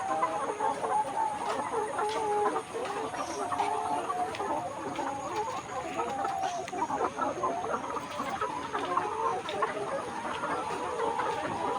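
Layer hens clucking in a poultry shed, a continuous chorus of overlapping clucks and soft calls from many birds, steady and fairly close throughout.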